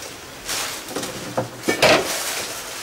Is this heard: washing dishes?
yes